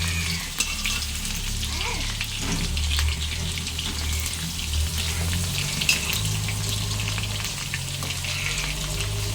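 Ivy gourds (dondakaya) frying in oil give a steady, close sizzle with soft stirring scrapes and occasional pops, with no talking over it.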